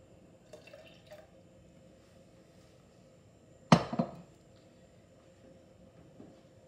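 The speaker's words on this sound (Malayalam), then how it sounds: "ഇനി ഇതിലേക്ക് നമുക്ക് കുറച്ച് വെള്ളം ചേർത്ത് കൊടുക്കാം." Water is poured into a pan of gooseberries (nellikka) for a gooseberry curry: one short splashing burst partway through, with a quiet room before and after.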